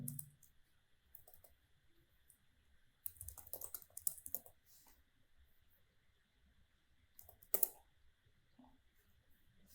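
Computer keyboard typing of code comes as scattered bursts of soft, quick key clicks with pauses between them, close and quiet, with one sharper clack near the end.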